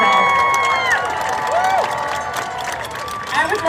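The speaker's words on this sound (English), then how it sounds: "So applaud for yourself." Crowd at an animation guild rally in Burbank, California cheering and applauding, with whoops and shouts over a steady wash of clapping and babble.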